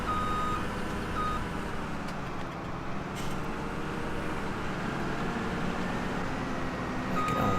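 Reversing beeps from a vehicle in the farming game Farming Simulator 17, a faint steady beeping over a constant low truck engine rumble.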